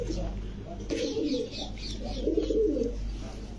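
Pigeons coo repeatedly in soft, throaty rolls close by, with a faint voice murmuring in the background.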